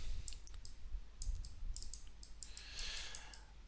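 Computer mouse clicking, a scattered series of quiet, sharp clicks in irregular bursts, close by in a hushed room with faint breathing.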